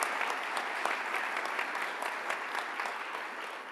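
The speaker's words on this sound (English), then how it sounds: "We should give them a warm round of applause for all of their hard work." An audience at a Chamber leadership awards celebration gives a warm round of applause, a steady, dense wash of many hands clapping at moderate distance, with no talk over it.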